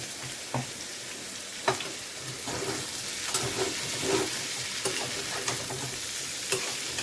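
Raw jackfruit and small prawns frying in oil, a continuous close hiss and sizzle with repeated scrapes and clinks of a spatula stirring at irregular intervals, no speech.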